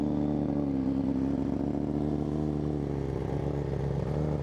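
BMW S1000RR sport motorcycle fitted with an Akrapovic exhaust idling high after a cold start, a steady loud engine drone with even exhaust pulses throughout, no voices.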